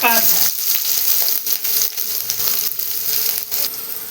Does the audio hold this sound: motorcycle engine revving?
no